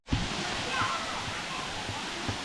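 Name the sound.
Gaumukh waterfall in Gujarat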